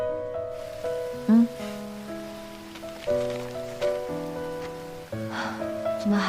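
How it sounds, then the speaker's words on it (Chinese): Rain falling steadily on surfaces, a continuous patter of drops heard faintly beneath sustained musical tones. "怎么还在下雨啊？"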